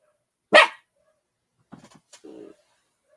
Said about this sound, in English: You're the only one barking besides the outside dogs in the neighborhood.